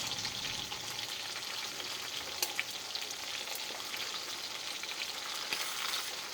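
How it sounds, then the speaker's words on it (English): Pork chops with fat on them frying in a pan, a steady close sizzle and crackle with occasional sharp pops, no voices. "put them in your pan just like I do these pork chops"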